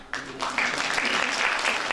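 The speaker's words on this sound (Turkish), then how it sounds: "Bravo, alkışlıyoruz" Applause from an audience for students at a school certificate ceremony and presentation, starting abruptly and swelling into steady, dense clapping close by.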